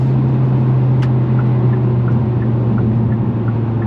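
A 2023 Hyundai Elantra N engine held on throttle gives a steady, loud low drone with a strong sustained hum, heard from inside the car with no talking over it.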